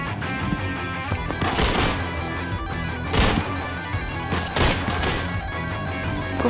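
Rapid automatic gunfire from the Arena Breakout shooter game rattles loudly in bursts, with sharper single shots cracking between sustained volleys and no talk over it.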